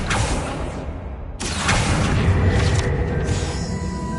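A Confringo blasting spell from Hogwarts Legacy bursts loudly twice: a heavy booming blast, a brief cut, then a second sustained explosive roar with crackling tail.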